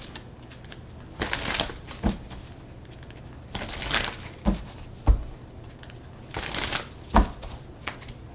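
Tarot cards being shuffled by hand in several riffling bursts, each a quick flurry of papery flicking and snapping, with brief pauses between, close up and moderately loud.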